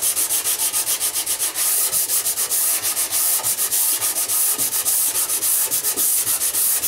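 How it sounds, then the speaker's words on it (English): Rapid back-and-forth sanding strokes on wood, a raspy scratching in a steady quick rhythm, close and continuous. "And I find when sanding, if I do a wee bit more at the edges"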